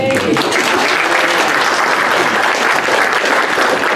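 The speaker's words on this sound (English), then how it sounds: "I get the applause, but that guy over there cooked it" Loud, sustained applause from a conference audience at a social media event, dense clapping continuing evenly throughout with a faint voice beneath it.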